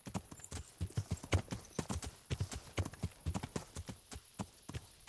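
Horse hooves clop in a steady, close walking rhythm as a horse picks its way down a hillside in the video game Kingdom Come: Deliverance, with no other sounds.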